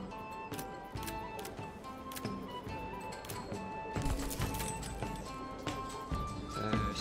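Horse hooves clip-clopping in the medieval city-building video game Manor Lords, a steady run of hoof clops over faint ambient game sounds, with no voices.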